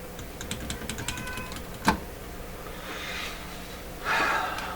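A house cat gives two short, fairly close meows after some light clicking and a sharp tap nearby. No one talks.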